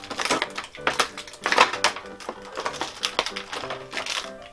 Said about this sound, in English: I want to be really careful unwrapping him